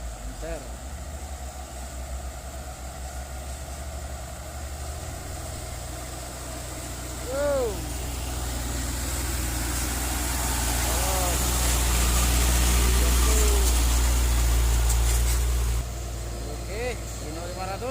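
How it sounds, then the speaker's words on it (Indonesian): A Hino 500 FM 260 TI truck labors up a steep, slippery climb, its deep diesel drone holding steady, then swelling louder and heavier for several seconds before easing back. "Oke, Hino 500."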